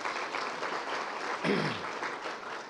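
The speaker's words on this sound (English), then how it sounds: "May we have a round of applause for them?" An audience at a lecture on fake news applauds, a steady, moderately distant wash of clapping with a brief voice-like sound in the middle.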